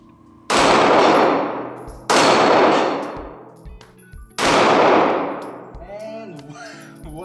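A Springfield Hellcat Pro pistol fires three loud, sharp shots at steel targets, each blast trailing off in a long ringing decay, with a faint metallic ping after the last.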